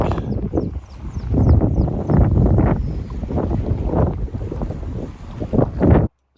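Strong wind buffets the microphone while cycling along the NC500 route in northwest Scotland, loud rumbling gusts pulsing unevenly close up, cutting off abruptly near the end.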